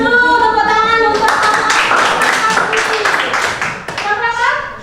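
Children in a classroom clap together in a quick, steady rhythm for several seconds, loud and close, with young voices speaking before and after the clapping.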